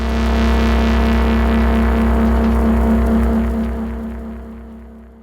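Sci-fi synth bass pad run through a stereo delay with LFO panning and flutter pitch modulation: a dense, loud, droning tone with wobbling pulses that sustains, then slowly fades out.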